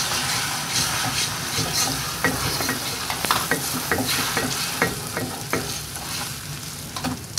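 Beaten eggs being stirred into roasting semolina halwa, a continuous loud sizzle with repeated scraping and clinking strokes of the spoon against the pan throughout.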